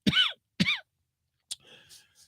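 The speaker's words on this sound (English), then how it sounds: "Every summer I get this damn raggedy cough." Two harsh coughs in quick succession, loud and close, followed after a pause by a shorter rough throat sound and faint breathing.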